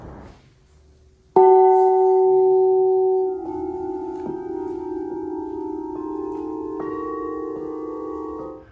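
At the Grassmayr bell foundry in Innsbruck, a display bell is struck once, loud and close, with a long humming ring that is restruck several times, overlapping tones that slowly decay.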